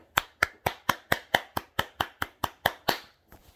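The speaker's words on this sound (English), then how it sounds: "Give him a round of applause." A single pair of hands claps about a dozen times in a steady rhythm, close and distinct, then stops, offered as applause for a man's father who was an offshore welder.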